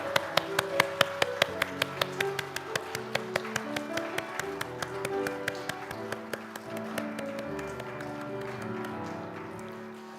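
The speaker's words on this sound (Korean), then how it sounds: "하나님께 영광의 박수 올려드리겠습니다" A church congregation claps during a Sunday worship service, rhythmic even claps over sustained music, steady and moderately loud for about ten seconds.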